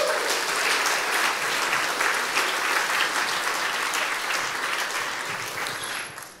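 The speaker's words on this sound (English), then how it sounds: "Should we give them a round of applause?" Audience applause fills a room at a church talk, a steady sustained clapping from a crowd that runs throughout and only starts to thin at the very end.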